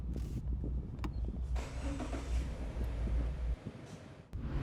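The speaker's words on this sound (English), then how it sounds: "you can back up the car and we'll head out of the parking lot" A car backs slowly out of a parking lot during a driving lesson, its engine a steady low rumble close by, with faint rustling and clicks over it and a brief drop near the end.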